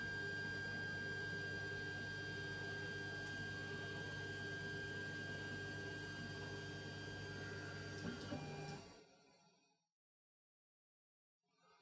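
A Creality 3D printer fitted with a V1.1.4 mainboard and silent stepper drivers sits idle, giving a steady close fan whir with constant tonal hum that cuts off abruptly near the end, leaving silence.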